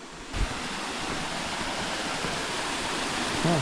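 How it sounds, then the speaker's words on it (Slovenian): Continuous rushing roar of a small waterfall spilling into a pool in the Agios Dimitrios canyon, close and steady throughout, with a brief bump near the start. "Evo, kakšen spet lep tolmunček, slapič."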